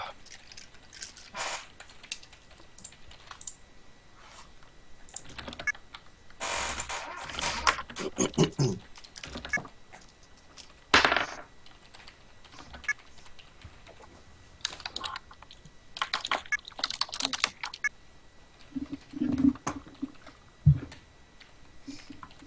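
Bursts of typing on a computer keyboard during an online tabletop role-playing session, with irregular clusters of keystrokes, some quick rattling runs and sharper single clacks, fairly close and alone without talk.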